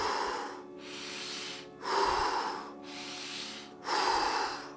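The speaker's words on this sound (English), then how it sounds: "It's 20 to 30 deep breaths in through the nose and out through the mouth." Deep Wim Hof method breathing, in through the nose and out through the mouth, comes as slow, even cycles of loud, airy inhales and exhales, close to the microphone.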